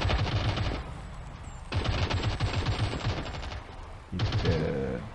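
Rapid bursts of automatic gunfire from the mobile shooter Modern Strike Online come in three separate volleys with short pauses between them, loud and close.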